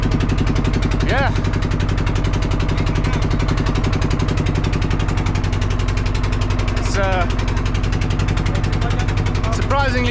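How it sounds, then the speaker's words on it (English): A boat engine on the Amazon River, heard from the boat's metal roof, holds a steady, muffled low drone throughout while a person talks over it. "This metal dampening the sound of the engine."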